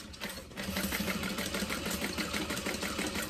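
A sewing machine set to stitch length 4 runs steadily while stitching the top panel of a zip-top tote bag, a close, even rapid whirring hum after a brief pause at the start.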